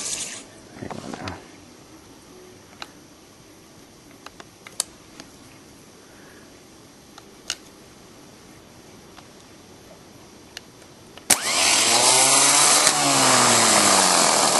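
A Napa automotive starter motor for a VW pickup, run out of the truck on jumper cables, spins up suddenly after scattered clicks and taps and holds a loud, steady whirring whine until the end.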